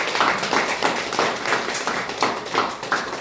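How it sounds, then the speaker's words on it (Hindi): A church congregation at a Christian first-wedding-anniversary celebration claps loudly for the Lord: a steady, rhythmic unison clapping with regular beats over a full bed of hands, continuing throughout and with no speech. "एक बार जोर से प्रभु के लिए ताली बजा देंगे।"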